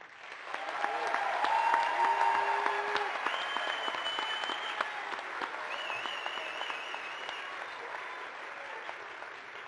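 Commencement audience applauding engineering graduates at a Penn State Scranton ceremony, a dense, steady ovation of many hands that swells early and holds near full strength throughout, with faint tonal sounds under the clapping.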